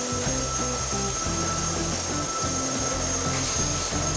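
An automated milling machine cuts a dental crown from a block, its drill bits and actuators producing a steady, close mechanical whir with rhythmic pulsing grinds, in a factory setting without talk.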